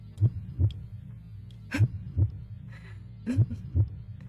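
Paired low thumps of a heartbeat in the video game Z.A.T.O, three double beats at a steady, fairly quick rhythm, close and prominent against a faint background hum.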